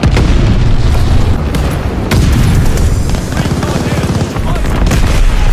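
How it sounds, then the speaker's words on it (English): Explosions from a glide bomb bombing run in Call of Duty Vanguard: a loud, sustained barrage of booms and rumbling blasts mixed with gunfire, filling the whole stretch without pause. "Friendly bombing run on the way."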